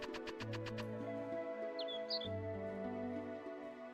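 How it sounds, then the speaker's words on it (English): Birds chirp and tweet in Breath of Fire 4, short high calls over a looping game music track with sustained tones, no voices. "I only hear birds out of my left ear."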